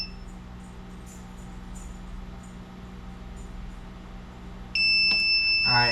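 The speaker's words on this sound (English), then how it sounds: "it beeps and it starts blinking" A NurtureRight 360 egg incubator, set up for jumbo Coturnix quail eggs, gives a sharp electronic beep as its menu is programmed, loud and close over a steady low hum, then a second brief beep at the end.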